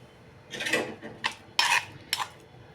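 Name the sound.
pounding eggplant chutney in a stone mortar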